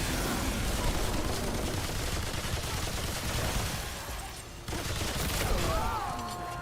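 Sustained machine gun fire in the video game Remnant 2, a dense, loud, continuous rattle of shots that barely lets up, with a short dip before resuming at full intensity.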